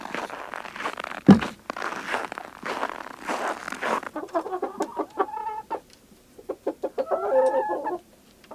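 A broody hen sits in a corner of the coop and gives a loud sharp squawk, then a run of low clucks and grumbles, close and uneven, with rustling and handling noises before.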